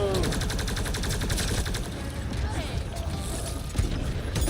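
Rapid gunfire and clattering weapon mechanics from the video game Mass Effect: Andromeda, dense and continuous throughout, with a voice speaking over the shooting.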